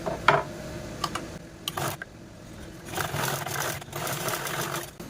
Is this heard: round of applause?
no